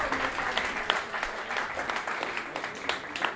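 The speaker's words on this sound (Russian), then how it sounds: "Наши аплодисменты." An audience claps for a guest singer at a creative evening concert, dense steady applause with sharp individual claps throughout, close and continuous.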